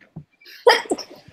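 A student sneezes in a classroom discussion: a small intake of breath, then one sharp, loud burst that trails off into breathy sounds.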